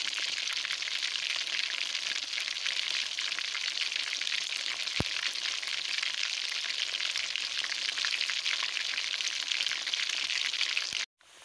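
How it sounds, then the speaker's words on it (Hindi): Shami kababs fry in hot oil with a steady, dense sizzle that stays close and even throughout, marked by a single sharp click midway and a sudden stop just before the end. "दोबारा फ्राई कर रही हूँ उनको, पहले वालों को।"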